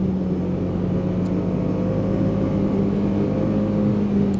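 A 2024 Polaris Indy Adventure 137 snowmobile with the Pro Star S4 four-stroke engine drones steadily at a constant pace, a low even hum with faint whirring overtones and no talk.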